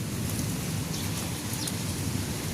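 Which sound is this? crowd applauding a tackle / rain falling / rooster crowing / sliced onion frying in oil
rain falling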